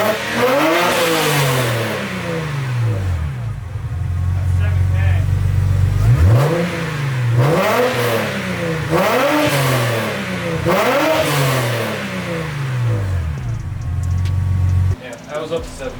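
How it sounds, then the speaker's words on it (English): A 2009 BMW 1 Series with the N52 engine and a new exhaust revs up several times in quick bursts, each climbing and falling back to a steady idle, loud and close, with talk over parts of it. "I'll do a couple quick revs with the exhaust so you can actually hear what it sounds like."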